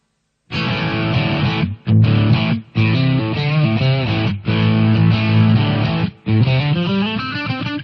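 An electric guitar plays chords and riffs through a Boss GT-100 set to high-gain distortion, loud and buzzy with heavy saturation, short breaks between phrases and a sliding note at the end.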